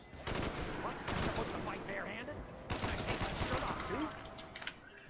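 MP40 submachine gun in Black Ops Zombies on Call of the Dead, firing in two rapid automatic bursts at low level with faint game effects between them.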